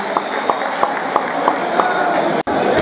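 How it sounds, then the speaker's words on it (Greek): Guests at a football veterans' annual dance in Thessaloniki applaud steadily, a dense patter of clapping heard alone, with a brief dropout near the end. "Ένα χειροκρότημα για τον ενήλιο."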